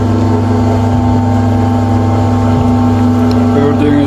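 A homemade feed mixing machine runs steadily at high revs, its loud continuous motor drone holding strong harmonic tones throughout with no pauses.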